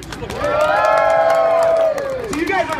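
A small crowd of children cheers and shouts at a kids cosplay fashion show at Phoenix Comicon Fan Fest. One loud, sustained swell of voices holds for about two seconds, then fades into scattered whoops.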